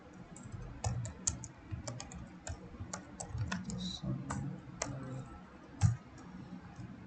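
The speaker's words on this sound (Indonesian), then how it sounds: "kita ketik 0" Keys clatter on a computer keyboard while a router is configured, irregular bursts of soft clicks close by, fairly quiet, with low background hum and faint voices.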